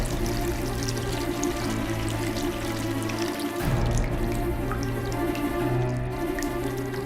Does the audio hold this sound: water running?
yes